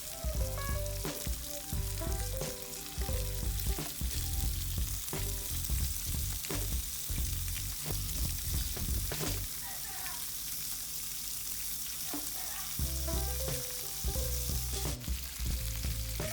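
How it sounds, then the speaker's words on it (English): Turkey tails fry in a skillet with a steady, close sizzle and crackle. Occasional clinks and stirring sounds break in, along with a speaking voice in the background. "turkey tails in the skillet and start frying them"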